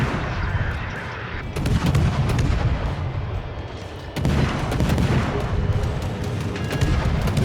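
Warship guns from the destroyer Daring fire in World of Warships, a loud, steady barrage of booming shots and rumbling salvos that runs the whole stretch with barely a pause.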